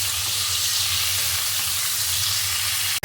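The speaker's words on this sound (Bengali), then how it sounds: "এগুলোকে আবার ভেজে নেব হলুদ আর নুন দিয়ে" Food fries in hot mustard oil with turmeric and salt, giving a loud, steady, close sizzle and hiss that runs unbroken until a sudden brief cut at the very end.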